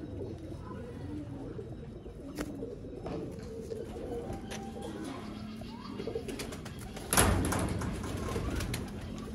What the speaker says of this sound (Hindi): ये 12 नंबर दोस्तों अब्दुल्ला भाई के गोल्डन कबूतर है।